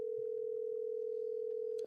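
A single steady telephone ringing tone on a call, one continuous pure tone held for nearly two seconds before cutting off, clear and alone.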